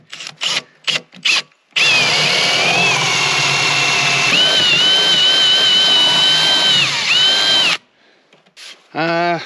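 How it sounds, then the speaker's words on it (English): A drill bores a one-inch hole into wood, a steady high-pitched whine with grinding, rubbing bite that shifts pitch as the bit sinks in, running continuously for about six seconds between brief bursts of nearby activity. "We're drilling her size for size."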